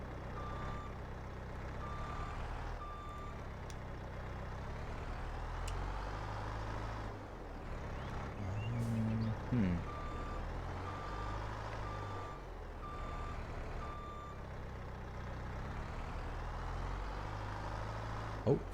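In Farming Simulator 22, a truck hauling a trailer emits steady reversing beeps over a low, constant engine rumble, with a brief clank midway and a sharp knock at the end.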